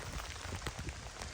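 Steady rain patters down outdoors during an Oregon blacktail deer hunt, a soft, even hiss of drops on surfaces with no voices, faint and continuous throughout.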